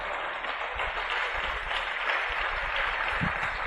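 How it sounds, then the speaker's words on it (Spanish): Church congregation applauding loudly during a Spanish-language sermon, a dense, steady wash of clapping from many hands filling the whole stretch without a break. "Denle un aplauso fuerte al Señor"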